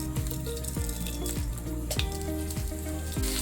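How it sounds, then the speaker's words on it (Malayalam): Fenugreek seeds sizzle in hot homemade coconut oil in a pan for sardine curry, a steady close crackle and spatter with a repeating rhythmic tick from stirring or equipment underneath. "ഇനി ഇതിലേക്ക് കുറച്ച് ഉലുവ ചേർത്ത് കൊടുക്കാം"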